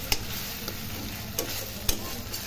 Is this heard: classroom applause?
no